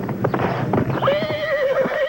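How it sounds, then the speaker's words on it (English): Horses stamp and clip-clop nearby with hooves knocking irregularly, then one gives a loud, drawn-out whinny that rises and wavers over the hoofbeats. "Homeless show horses."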